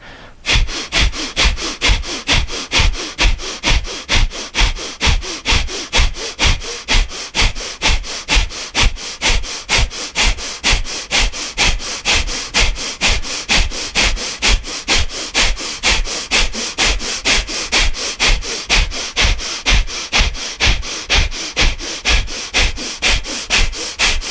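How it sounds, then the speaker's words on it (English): Yoga breath of fire: rapid, even nasal exhalations pumped out in a steady rhythm of about two per second, close and forceful, continuing without a break and with no speech. "When you're ready, begin breath of fire."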